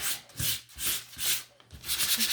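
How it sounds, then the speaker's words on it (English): Sandpaper rubs gently over wooden sign pieces in a rhythmic back-and-forth, with about five close, soft scratchy strokes. "take your sandpaper and just gently go over"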